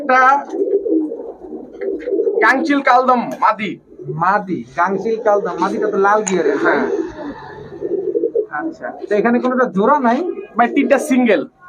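Pigeons coo and murmur throughout at a pigeon shop, nearly continuous and fairly close, under steady conversation between people.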